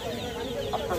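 Chickens cluck briefly at a busy poultry and pigeon market in Savar, Hemayetpur, Dhaka, with a few short calls over background crowd murmur.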